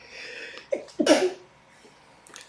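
A single sharp sneeze bursts out close by, with a brief intake of breath just before it, followed by quiet.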